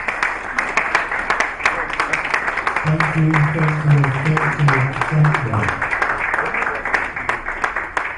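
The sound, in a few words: audience applause at a conference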